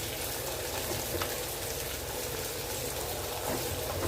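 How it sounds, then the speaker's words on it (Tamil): Garlic sautés in oil in a pan for a village-style drumstick and garlic thokku, giving off a soft, even, continuous sizzle with no talking. "பூண்டு நல்லா வதங்கி வரட்டுங்க"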